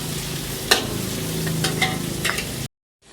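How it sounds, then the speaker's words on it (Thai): Onion added to golden garlic sizzles steadily in a frying pan while being stirred, with a few sharp spatula scrapes and clinks over the continuous frying hiss before it cuts to silence. "เราจะใส่หอมหัวใหญ่ตามลงไปเลยนะครับ คนให้เข้ากันนะครับ"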